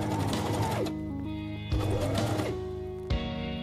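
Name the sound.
sewing machine stitching a tote bag seam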